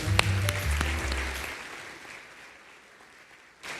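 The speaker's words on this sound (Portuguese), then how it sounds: "Você pode aplaudir Jesus por eles." A burst of congregation applause in a church service fades out over a few seconds, with a sustained musical tone underneath at the start.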